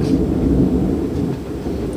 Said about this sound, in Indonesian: Lagi hujan ya.